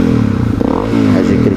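A Honda CRF 250L motorcycle fitted with a Yoshimura exhaust revs up close, a loud, throaty engine note rising and falling over a short burst.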